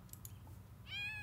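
A cat in The Sims 4 video game at a sandy beach lets out one short, high meow near the end, after a brief faint chirp, otherwise quiet.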